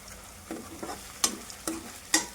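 Red chilli sauce and tomato sauce fry in a pan for veg Manchurian. A soft, close sizzle is broken by three or four sharp scraping stirs, with no voices.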